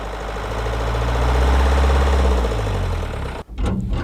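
A bus engine runs loud and close as taped-together buses are driven in reverse, a heavy rumbling idle with a knocking throb that drops off sharply near the end before picking back up.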